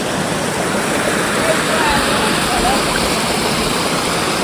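A waterfall pours steadily between hills, a loud continuous broadband rush of falling water that holds level with no breaks.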